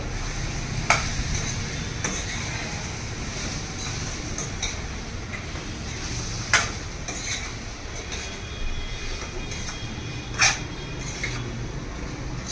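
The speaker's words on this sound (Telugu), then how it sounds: "ఇప్పుడు ఒకసారి బాగా కలపాలి" Chili powder is stirred into a curry of eggs, dried prawns and drumsticks. A spoon scrapes and clicks sharply at irregular moments over a steady low sizzle throughout.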